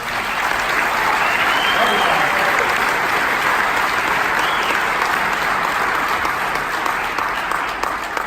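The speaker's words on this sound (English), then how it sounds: "I want you guys to give a huge round of applause for the Coco Federation." A large audience gives loud, sustained applause for the Coco Federation at an award event, a thick, even wash of clapping and crowd noise that holds steady throughout.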